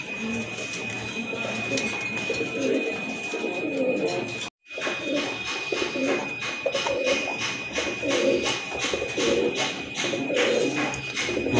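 Babra pigeons, a pair of running birds, coo repeatedly at close range in a steady stream of low rolling calls, with a brief drop-out partway and a faint high tone underneath.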